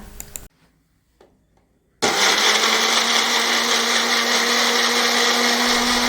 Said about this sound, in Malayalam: ഇതെല്ലാം കൂടി നമുക്കൊരു മിക്സിയുടെ ജാറിലിട്ടൊന്ന് അടിച്ചെടുക്കാം